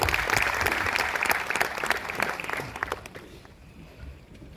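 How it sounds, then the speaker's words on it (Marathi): An audience at a book launch event bursts into loud, dense applause that carries on for a few seconds and then thins out and fades. "टाळ्या वाजल्या पाहिजे जोरदार"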